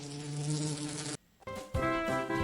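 A wasp buzzing sound effect in a Macedonian children's alphabet rhyme: a loud, steady, droning buzz that breaks off briefly and then returns even stronger.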